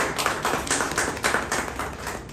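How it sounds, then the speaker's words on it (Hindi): An audience at a seminar claps, a dense, steady patter of many hands that carries on throughout without any talking. "रितेश पांडे जी के लिए एक बार तालियां आप लोग बजाते रहिए"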